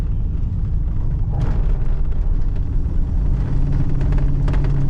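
A Pontiac Grand Prix with a faulty transmission that won't shift drones and revs steadily from inside the cabin, a loud continuous low rumble with no clear gear change, heard close without any talking.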